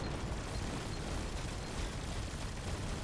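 Dense, continuous rumbling explosions from the roguelike video game Greedland, a steady wall of booming blasts with no gaps and no voices, moderately loud throughout.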